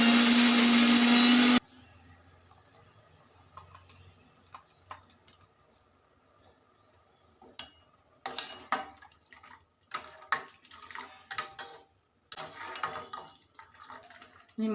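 A mixer grinder blending beetroot with sugar and water runs loud and steady for about a second and a half, then stops, leaving quiet kitchen clatter and clinks of utensils and dishes.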